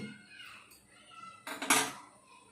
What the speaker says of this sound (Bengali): গ্যাসটাকে আমি অন করলাম, কড়া বসিয়ে দিচ্ছি।